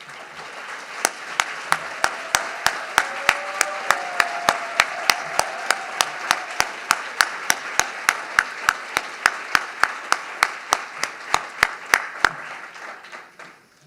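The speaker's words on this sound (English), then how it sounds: "please stand and make yourselves known so we can give you one more round of applause" A crowd at an award ceremony gives honorees sustained applause, a broad wash of clapping overlaid by a regular run of loud, sharp near claps that continues evenly before fading out.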